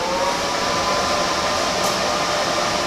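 An Everlast Power MTS 221sti multi-process welder switched on, its cooling fan giving a loud, steady, unbroken whir from start to finish, with no speech.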